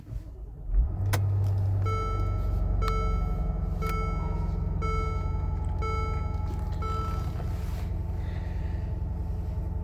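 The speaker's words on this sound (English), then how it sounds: "I'm gonna turn the car on" A 2019 Mercedes GLS 550 starts up: a brief starter burst, then a steady low idle rumble, with a chime beeping at regular intervals throughout. No one speaks.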